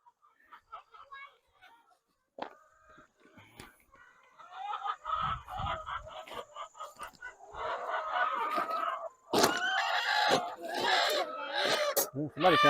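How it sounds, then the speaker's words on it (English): Chickens cluck and squawk inside a farm coop, starting sparse and building into a busy, agitated chorus of close calls, with a few scattered voices heard briefly. "Oh, you got a chicken."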